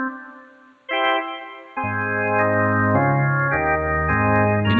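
Sustained organ chords from a Yamaha PSR keyboard, set to a stereo organ voice with added reverb, shifting through several held harmonies with a thick low end; loud and close with no voices.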